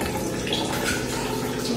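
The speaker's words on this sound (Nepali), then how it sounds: "पानी फिल्टर हुँदैछ" Water runs steadily through a home water filter in a kitchen at mealtime, a continuous close hiss and trickle with no breaks.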